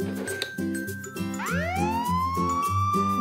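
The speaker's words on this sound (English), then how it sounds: "This is a police car!" A toy police car siren wails, rising into a loud sweeping tone over a steady rhythmic electronic beeping pattern, close and continuous throughout.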